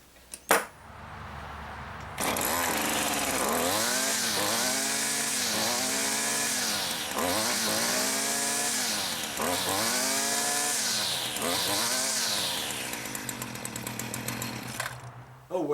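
A Stihl FS70R string trimmer engine running after its primer bulb was cleaned, a loud buzzing two-stroke whine revved up and down repeatedly in smooth rising and falling sweeps, close by.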